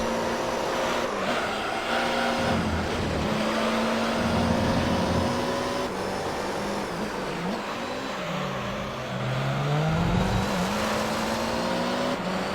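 Japanese GT race car engines roar in Gran Turismo 3, at the Corkscrew at Laguna Seca, with a Supra, NSX and Skyline in the field: loud continuous high-revving drone with shifting pitch as the cars accelerate, brake and shift gears.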